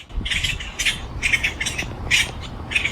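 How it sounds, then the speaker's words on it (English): Loud birds nearby give harsh squawking calls in short bursts, repeating irregularly about twice per second with faint background noise between them. "Those birds are loud."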